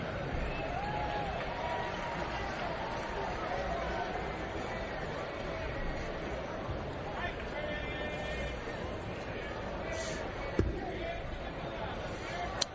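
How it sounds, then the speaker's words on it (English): A quiet baseball stadium crowd during the Yankees at Tampa Bay game in 2015 keeps up a soft, steady murmur, with a couple of brief knocks near the end. "That's the sound of the crowd here when they don't play all that noise."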